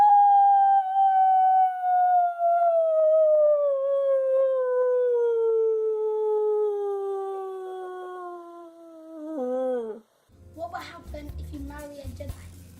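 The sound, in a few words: Darth Vader's anguished howling cry imitation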